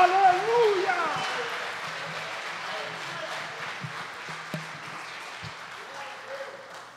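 Church congregation applauding during a worship service, broad steady clapping that slowly fades, with voices speaking over it.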